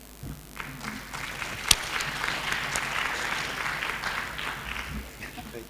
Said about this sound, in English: when people clap before you have said anything